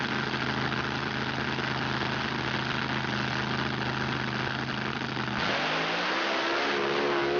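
Mud truck engine idling loudly at the staging line of a mud racing event, a steady throaty rumble that shifts into a rising rev near the end, close and continuous without talk.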